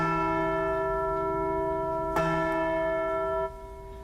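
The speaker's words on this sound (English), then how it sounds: "the 31st annual bell-ringing ceremony and commemoration" A church-style bell at the 31st annual Martin Luther King Jr. bell-ringing ceremony at the Connecticut state capitol rings with a sustained, humming tone, then a single fresh strike partway through, followed by a fading ring-out without speech.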